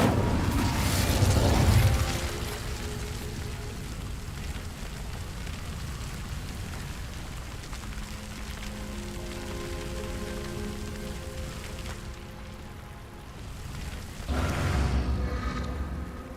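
Incendio fire spell in Hogwarts Legacy, a loud crackling burst of flame at the start, then a long rushing, roaring fire sound with a low hum, and a second burst near the end.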